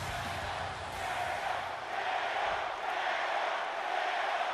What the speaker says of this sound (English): And it sounds like this Green Bay crowd is firmly behind Kevin Owens.